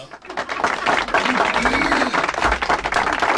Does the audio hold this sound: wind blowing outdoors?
no